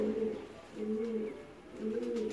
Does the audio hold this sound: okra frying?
no